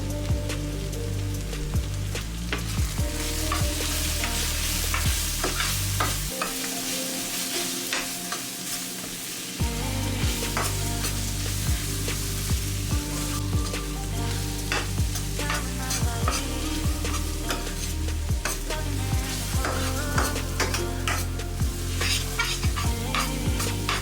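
Onions and ground spices frying together for butter chicken, stirred continuously, produce a dense, even sizzle with frequent crackles and scraping from the spoon, near and fairly loud.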